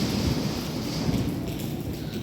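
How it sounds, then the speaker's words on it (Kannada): Heavy rain pours at the memorial of actor Dr. Vishnuvardhan, a steady, dense broadband hiss that stays loud and even throughout, with no voices over it. "ಅಂತೂ ಇವಾಗ ಜೋರಾಗಿ ಮಳೆ ಸ್ಟಾರ್ಟ್ ಆಗೇ ಹೋಯಿತು."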